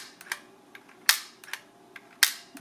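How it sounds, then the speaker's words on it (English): Sharp mechanical clicks from a Debonair automatic film camera shutter, close and crisp, two louder snaps about a second apart with softer ticks in between. "let me show you the shutter here, so you don't have to wind anything"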